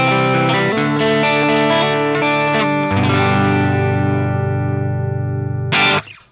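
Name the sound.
electric guitar through Sonicake VolWah pedal into Marshall amp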